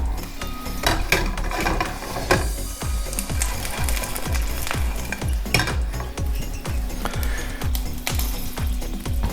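Shishito peppers tossed into hot oil in a pan, a steady loud sizzle and crackle running throughout with repeated rhythmic clatter of the pan or utensil, no talking.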